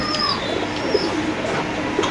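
Pigeons at a market, including punky pigeons, give a few soft rolling coos close by, with faint chirps and background bustle around them.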